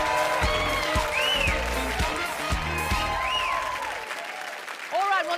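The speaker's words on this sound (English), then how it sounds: "Let's give them a big round of applause." A studio audience applauds on a dating show, a continuous burst of clapping mixed with music and talking voices, fading partway through.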